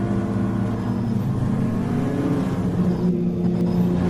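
About 24 Improved Production racing cars drone and rev together in a continuous loud roar during a race in Western Australia, like a pack of cars running close by.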